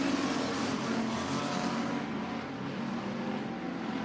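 Race car engine roaring steadily on the Bakersfield Speedway dirt oval during a heat race, a continuous broad drone of engines at moderate distance with no talk.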